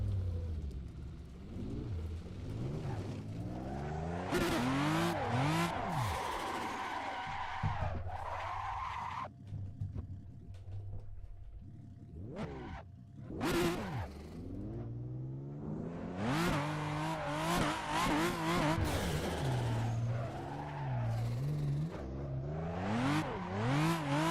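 A car's engine revs hard and rises and falls in pitch again and again during drift practice, with tire skidding mixed in and a brief quieter lull partway through.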